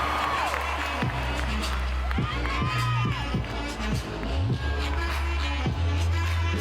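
A college gymnastics meet, Florida at Georgia, as teammates cheer and shout for a gymnast starting her first floor pass. The loud, continuous crowd roar has whoops, with music and a commentator talking over it.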